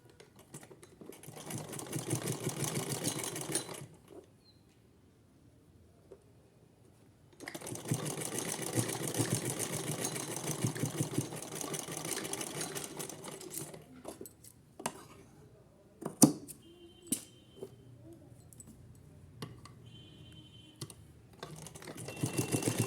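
An electric sewing machine stitches a folded edge in fabric for a small deity outfit, running in two long, even, rapid bursts separated by a quiet pause, then gives way to scattered clicks and light handling noises.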